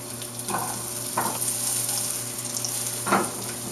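Onions sizzle in a hot pan for an omelet, a steady close frying hiss with a few louder crackling bursts as they are added and stirred.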